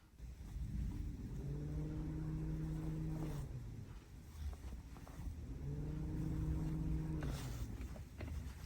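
A car's radiator fan, switched on through a scan tool actuation test, runs with a steady whooshing rush and a humming tone that swells and fades twice. The sound is faint and heard alone.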